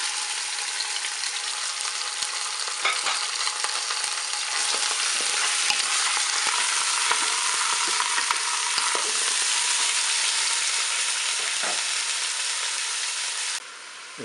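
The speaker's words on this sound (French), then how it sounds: "Je vais faire revenir ma rouelle." Pork shank and onions brown in a Cookeo multicooker, giving a steady, close, hissing sizzle with a few faint scrapes of stirring, continuous until it drops away abruptly at the end.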